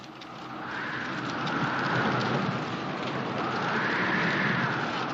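Heavy rain pours steadily with a low rumble of thunder swelling and fading beneath it, loud and continuous, without speech.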